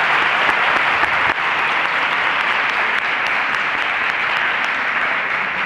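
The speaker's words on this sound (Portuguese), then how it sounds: "Palmas para o Fernando e para a Maiana." An audience at a university genetics debate talk claps: a loud, close, thick wash of many hands clapping together, steady and unbroken for several seconds without any voices.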